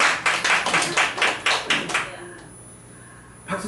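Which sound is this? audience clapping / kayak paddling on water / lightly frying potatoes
audience clapping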